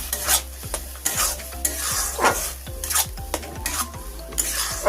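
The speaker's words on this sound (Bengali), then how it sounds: "আবার আমি এরকম হালকা হাতে নাড়াচাড়া করে গাজরের রসটা শুকনো করে নেব।" Grated carrot being stirred and cooked down in a wok for a sweet, with a spatula scraping and clinking against the pan in repeated strokes over a steady close sizzle.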